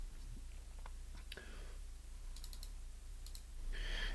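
A computer mouse double-clicks during CAD work, leaving small, faint clicks in quick pairs over a low steady hum, with no voice.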